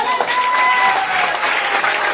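A short burst of audience clapping for an older man taking part in a group session, brief and fairly loud, with a faint voice mixed in.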